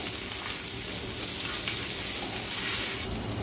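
Kaleti fish fry in oil on a flat tawa, giving a loud, steady, close crackling sizzle throughout with no talking.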